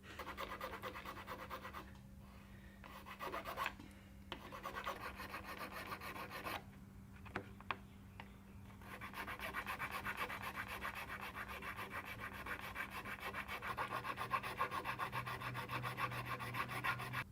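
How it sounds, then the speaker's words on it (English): A small part made of baking soda and superglue is sanded by hand, giving quiet repeated rasping and rubbing strokes with short pauses between bursts. "once I sand it down to the state that this one's in"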